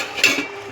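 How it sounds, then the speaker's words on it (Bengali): A metal lid set down on a cooking pot of drumsticks (sajna data), one short clink close up, with a faint kitchen hum before and after and no talk. "এই যে এবার আমরা কিছুক্ষণ ঢাকা দিয়ে দেবো যাতে তাড়াতাড়ি সিদ্ধ হয়ে যায়।"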